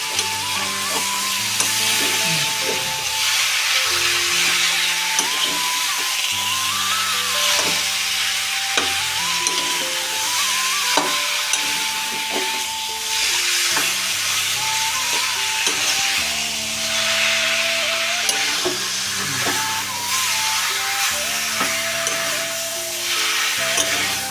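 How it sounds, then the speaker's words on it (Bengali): Chicken pieces are stir-fried with spices such as cumin in a pan for chicken kosha, with a steady close sizzle and repeated scraping strokes of a spatula. Background music plays throughout and nobody speaks. "তো মাংসটা দিয়ে দিলাম এখন কষানো শুরু করো"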